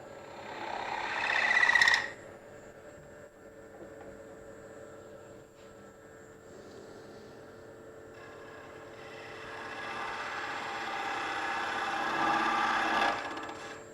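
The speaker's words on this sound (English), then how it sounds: "I'm going to take a 3/8 spindle gouge and cut my rebate for the" A 3/8 spindle gouge cutting a rebate into a wooden base on a wood lathe, with a rising scraping cut near the start, a quieter steady hum of the spinning lathe, then a longer building cut near the end.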